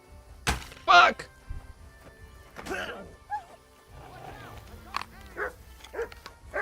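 Barks from a dog in a video game, several short yaps scattered over a busy mix of game noises and a voice talking, moderately close and not very loud.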